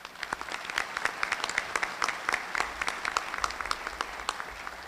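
An audience applauds elected officials at a Daviess County gathering: steady, moderately loud clapping from many hands, with dense overlapping claps running the full length.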